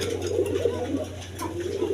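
A pair of Giribaz pigeons, a male and female, coo softly and continuously at close range, their low murmuring steady throughout over a faint background hum.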